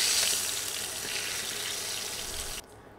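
Fish frying in hot oil makes a loud, dense, steady sizzle up close that cuts off abruptly near the end.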